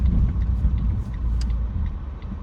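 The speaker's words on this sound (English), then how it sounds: "Got a car flying by" A car speeds past on a downtown street in Camden, Arkansas, heard from inside another moving vehicle as a loud, continuous low rumble with road noise throughout.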